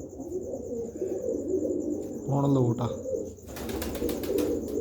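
Pigeons coo in low, throaty calls close by, with a brief rustle or flutter near the end, while someone speaks at times over the sound.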